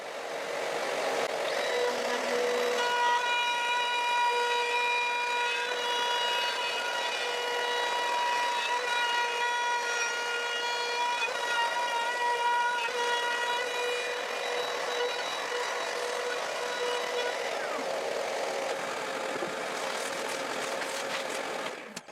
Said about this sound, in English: before milling the last strip, I have to screw the insert plate back onto the base of the palm router